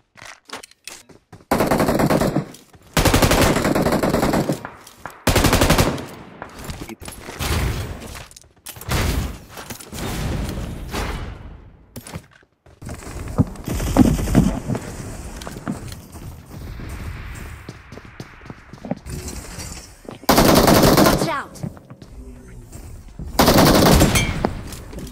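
Loud bursts of automatic gunfire from a sniper-focused shooter video game come in several long sustained volleys with brief gaps, interspersed with quieter in-game movement and mechanical noises.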